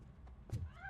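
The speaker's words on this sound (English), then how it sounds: "That cat must be hiding inside." A cat meows in the video game RoboCop: Rogue City; a soft thump comes first, then one brief, fairly close meow rises near the end, with no speech.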